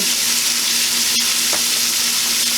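Shrimp fry in a hot pan with a loud, steady sizzle and a couple of brief clicks from the pan, close-up and uninterrupted by talk.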